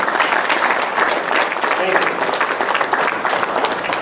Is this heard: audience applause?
yes